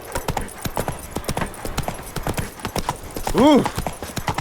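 Roach the horse in The Witcher 3 gallops with rapid, rhythmic clip-clopping hooves close by, and a short exclamation from a voice cuts in near the end.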